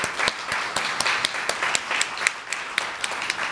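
An audience claps steadily at a closing-remarks event, sharp individual handclaps standing out over a wash of applause at moderate distance, with no talking over it.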